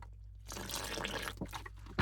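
Tap water squeezed from a plastic bottle into powder, a brief wet splashing spurt with a few drips and sloshes, close and fairly quiet.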